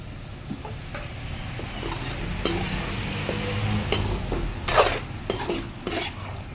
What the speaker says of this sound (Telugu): ఇప్పుడు మనం గ్రైండ్ చేసి పెట్టుకున్న జీడిపప్పు పేస్ట్ని ఇందులో కలిపేద్దాం